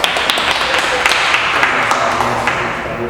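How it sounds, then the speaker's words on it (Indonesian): Students clap for the school PMR club during a high school talk show, a busy mix of clapping with scattered sharp claps and voices underneath. "Tepuk tangan dulu PMR."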